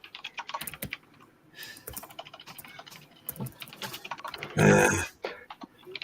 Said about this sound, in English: That's the best I'll come to actually typing it.